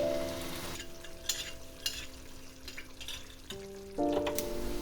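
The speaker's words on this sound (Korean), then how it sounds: "볶은 양념에 물을 반 컵 정도 붓고 화력을 높여서 끓여줍니다." A spoon scrapes and stirs through a simmering fish-flavored eggplant sauce with added water over high heat in a pan, with steady bubbling sizzle and a few sharper clinks, no talk.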